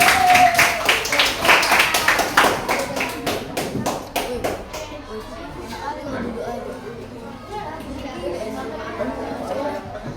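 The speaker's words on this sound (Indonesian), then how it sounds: "Ayo, kasih tepuk tangan untuk kelompok melati." Students in a classroom clap for a discussion group after it presents; several seconds of quick, crisp clapping close by, then it thins out into chatter and murmuring voices.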